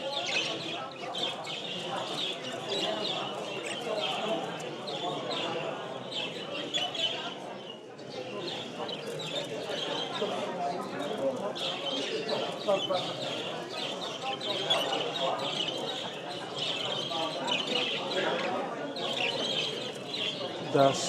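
Budgerigars at a large indoor championship bird show keep up a dense, continuous chatter and chirping throughout, with a busy hall ambience and voices mixed in.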